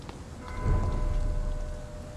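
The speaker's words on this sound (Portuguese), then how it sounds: "Caraca, tá chovendo." Steady rain in the video game Vampyr falls over a low rumbling background, a dense hiss of drops with faint tonal hums, continuous and moderately loud throughout.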